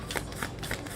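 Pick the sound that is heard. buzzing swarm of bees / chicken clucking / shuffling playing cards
shuffling playing cards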